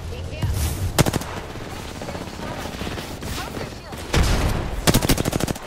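Rapid automatic gunfire from a video game shooter, two loud bursts of fast repeated shots near the start and again toward the end, over a continuous battle ambience.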